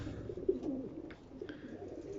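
A racing pigeon in a loft gives soft, low cooing, a few quiet murmured coos close by.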